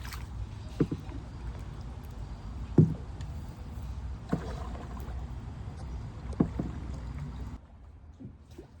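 A boat ride on the water in Bangkok, with a steady rumble of water and engine and occasional knocks and splashes against the hull, close and continuous, fading quieter near the end.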